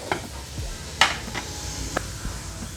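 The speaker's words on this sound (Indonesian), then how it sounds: "Ini kita tunggu sambil mendidih" Shabu-shabu broth simmers in a covered pot at a cafe in Aceh Singkil, giving a soft, steady bubbling hiss at close range with a few sharp clinks of utensils or the lid.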